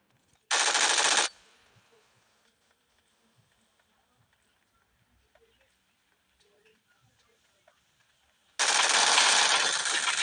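Two loud bursts of automatic video game gunfire, one near the start and one at the end, with near silence and faint game noises between them.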